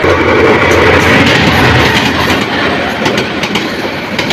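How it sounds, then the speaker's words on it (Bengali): Kalni Express train pulling out of Bhairab Bazar junction, a steady loud rumble with rattling carriages and clickety-clack of wheels on rails, continuous throughout, no talk. "কালনী এক্সপ্রেস ট্রেনটি ভৈরব বাজার জংশন ছেড়ে যাচ্ছে"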